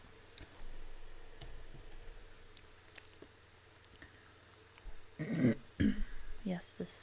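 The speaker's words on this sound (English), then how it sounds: "I'm clearing my throat so much." Someone repeatedly clears their throat, a few close, rough bursts near the end after a quieter stretch with faint clicks and low background hum.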